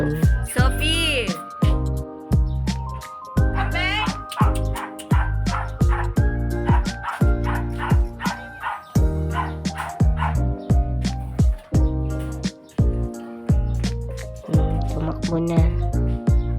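Close, loud, continuous dog barking and high yipping at home, the excited barks coming in quick uneven bursts with little pause between them.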